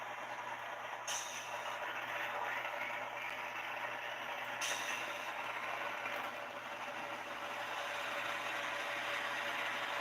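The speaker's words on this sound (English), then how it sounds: "it sounds kind of weird for a GEVO that's revving up" Model train GE GEVO locomotive sound unit revving, a steady hissing mechanical engine drone held at one level, with two brief high chirps partway through.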